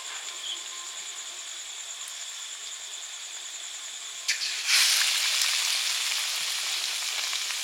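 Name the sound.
potato chops frying in oil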